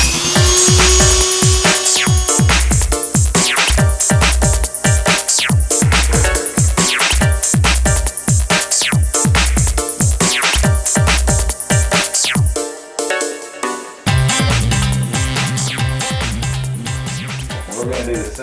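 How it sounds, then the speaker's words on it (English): A Dremel rotary tool widens a plastic opening on a Power Wheels ride-on toy, loud and close, with a rapid stuttering grind of repeated cutting passes, then a short pause and a steadier whir toward the end. "I'm going to Dremel this out a little bit wider here"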